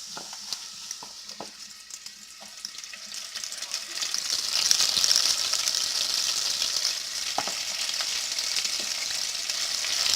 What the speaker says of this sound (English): They're hot grease in here.